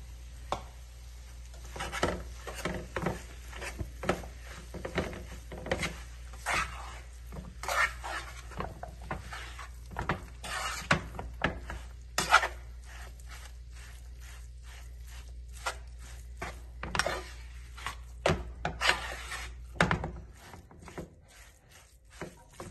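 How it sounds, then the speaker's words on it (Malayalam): Tuna with turmeric powder is stirred in a pan, a spoon scraping and clinking against the metal in irregular strokes, fairly close and moderately quiet, with no talking. "ഇനിയും ഇതിലേക്ക് ചൂണ കൂടെ ഇട്ട് നല്ലതുപോലെ ഒന്ന് ഇളക്കണം"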